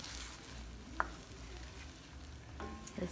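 Spam and eggs frying in a 5-quart Le Creuset braiser, a steady low sizzle with soft scrapes and clinks of stirring, one sharp tap near the start and a few clatters at the end.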